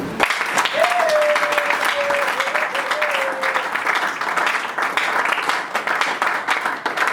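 A church congregation breaks into loud, sustained applause in praise of the Lord, steady dense clapping filling the room from start to finish, with a sung or shouted tone rising briefly over it early on.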